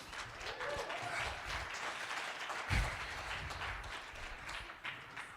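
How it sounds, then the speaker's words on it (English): Audience applause for a conference team at a gathering, a steady wash of many hands clapping at moderate distance that holds evenly through the whole stretch, with a brief louder swell partway through. "Please give a round of applause to the Greater Reset team."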